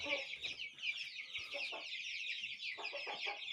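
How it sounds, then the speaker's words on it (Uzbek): Young chicks kept for sale chirp and peep in a dense, overlapping high-pitched chorus, with a few lower clucks mixed in, close and continuous. "Mana aka-ukalar, sotiladigan jo'jalar."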